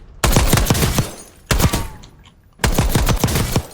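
The Goblin gun in Black Ops 6 firing in three loud, rapid automatic bursts, each lasting about a second, separated by short pauses, up close and with no talk over it.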